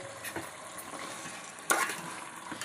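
Cut moringa drumstick pieces tumble into a simmering chicken curry, with soft bubbling and stirring, a sharp splash and sizzle midway, and light clatter of a utensil in the pot.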